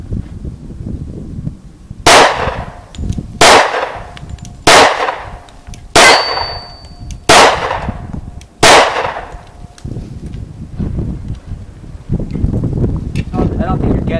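Six sharp, loud pistol shots from a Springfield V10 Ultra Compact 1911 crack out at an outdoor range, evenly spaced about a second and a half apart, with wind rumbling across the microphone between them.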